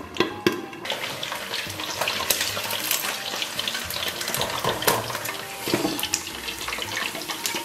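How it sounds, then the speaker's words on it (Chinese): Pork trotters deep-frying in a covered pot of oil, a dense, steady crackling sizzle with bursts of spattering, close and loud throughout, no talking. "炸了7、8分钟了。"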